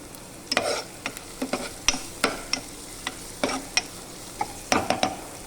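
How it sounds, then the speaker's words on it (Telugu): Broad beans curry frying in a pan: a soft sizzle under a series of sharp spoon taps and scrapes against the pan, irregular and close, without speech. "ఈ పచ్చివాసన పోయేదాకా ఫ్రై చేయాలండి."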